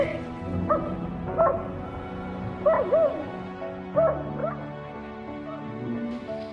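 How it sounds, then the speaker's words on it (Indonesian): A neighbour's dog barks repeatedly at night, a series of close, yelping barks and whimpers in uneven bursts over a steady low background, with faint talk underneath. "anjing tetangganya yang selalu menggonggong"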